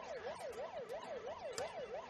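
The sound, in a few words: air raid siren in video game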